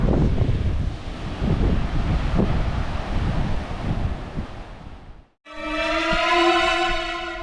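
Warm outdoor wind in the Philippines, a loud gusty rush buffeting the microphone that cuts out briefly and returns with a steadier whoosh and tonal whine.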